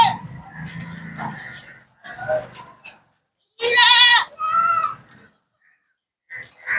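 Barbari goats bleat loudly and close by on a goat farm, two strong wavering calls in a row, with someone talking and farm sounds before and after.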